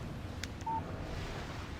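Phone text message alert in the video game Alan Wake: a faint, short electronic beep pattern with a brief tone, over a quiet background hum.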